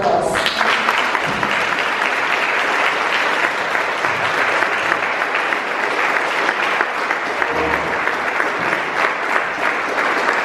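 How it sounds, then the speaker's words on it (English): A large audience at a talk by Dr. Ghassan Abu Sitta bursts into loud, sustained applause that starts sharply and holds steady for about ten seconds, dense and close. "Please welcome him with a very warm applause"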